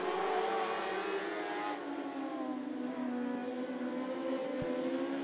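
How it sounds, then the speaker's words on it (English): Mod Lite modified race cars powering out of turn four at I-75 Raceway under a green flag, a loud, continuous engine roar whose pitch slides down as the field sweeps past. "here they come out of turn four to green flag racing"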